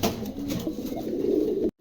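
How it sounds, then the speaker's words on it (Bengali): Soft, low cooing of a pair of pigeons close by, a continuous throaty murmur with a few rising notes, no voices. "চমৎকার এক জোড়া কবুতর"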